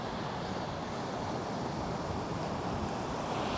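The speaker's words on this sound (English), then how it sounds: "Look at those waves. I just love the waves." Ocean waves wash steadily over wind rushing across the microphone, a continuous broad roar with no clear breaks and no talking.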